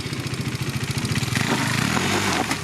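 A Honda CRF rally motorcycle engine pulses in a fast, throbbing rhythm, then revs up harder and rougher as the rear wheel slides through a turn, close and loud with no talk.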